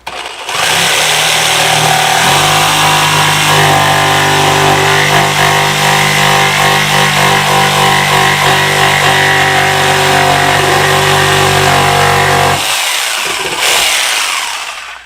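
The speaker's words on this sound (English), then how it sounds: "A little jigsaw action here." A jigsaw cuts rounded edges into the front of a wooden standing desk. The motor whines loud and steady for about twelve seconds, then winds down and stops.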